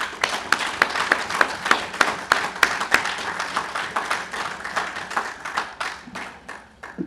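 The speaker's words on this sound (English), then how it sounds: "give a resounding round of applause to these three persons who spoke before" Audience applause for three formerly incarcerated speakers at a prison service anniversary launch, a steady spread of many hands clapping close by for about seven seconds, thinning slightly toward the end.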